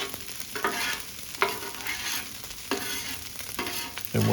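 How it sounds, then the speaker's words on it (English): Fried rice on a Blackstone flat-top griddle, stirred and scraped with a spatula: continuous sizzling frying under repeated metallic scrapes and clacks, close and fairly loud. "you want to scrape it and incorporate that into your rice"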